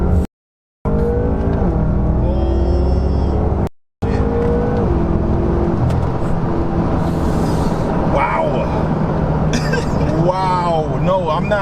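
A BMW M5 accelerates at full throttle from inside the cabin, its engine note climbing in a loud, sustained roar with rising pitch, briefly cut by gaps, while a voice talks over it.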